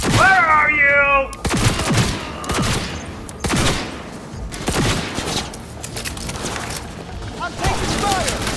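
Heavy gunfire in the Cyberpunk 2077 video game at Arasaka Tower, a fusillade of loud close bursts and single shots with booming impacts, repeated over several seconds, with brief voice and chirping electronic tones at start and end.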